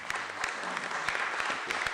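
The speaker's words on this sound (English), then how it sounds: "I ask for one more round of applause to Professor Frumkin" Audience applause follows an academic lecture, an even patter of many hands clapping at moderate distance, steady and fairly quiet, with no speech over it.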